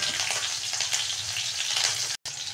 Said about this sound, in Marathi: मिरची लसूण छान फ्राय झाला आहे।